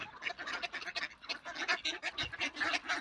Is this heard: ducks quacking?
yes